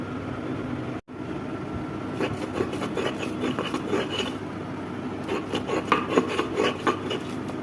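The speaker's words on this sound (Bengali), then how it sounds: "এবার বেটে নিব।" Boiled jackfruit seeds and green chillies are ground on a flat grinding stone, giving a rhythmic rasping scrape of stone on stone, close and steady, with a brief break near the start.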